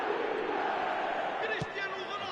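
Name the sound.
stadium crowd reacting in eFootball video game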